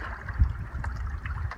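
Cold bleach water sloshes and splashes as a tanned bear hide gets a quick rinse, a continuous low gurgling with a few brief sharper splashes, close and unaccompanied by talk.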